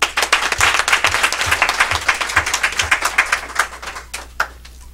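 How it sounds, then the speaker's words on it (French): An audience at a political café gathering applauds a special guest, dense, loud clapping from many hands in a room, briefly rising and then gradually thinning out toward the end. "Je voudrais qu'on acclame Alain Toussaint."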